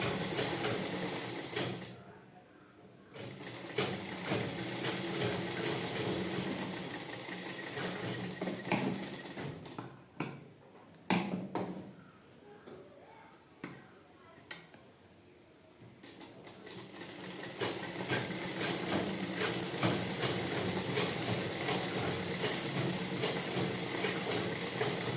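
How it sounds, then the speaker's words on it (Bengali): A sewing machine runs in sustained mechanical bursts while top-stitching the front part of a blouse, pausing briefly between runs before resuming with a steady whirring rattle. "এক চাপ ছেড়ে আমি সেলাই করে নিলাম।"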